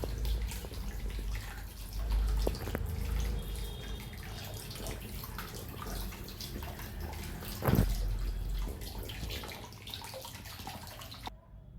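Water in a private jacuzzi at a resort at night, a continuous bubbling, trickling wash with faint drips and one louder splash, steady and close without any talk.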